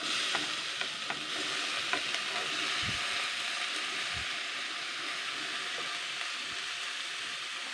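Chopped bottle gourd tipped into a hot cumin tempering for lau bori dudh malai, sizzling and frying steadily close by with stirring scrapes and a couple of low thuds, no talk.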